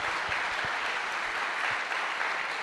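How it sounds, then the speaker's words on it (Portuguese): Congregation at a church service claps steadily, a dense sustained applause from many hands throughout, moderately loud with no voices standing out. "Vamos dar uma salva de palmas?"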